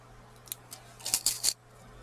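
Scissors trim a craft flower up close, several quiet crisp snips, first single cuts and then a quick cluster near the end, in an otherwise hushed room with a faint hum.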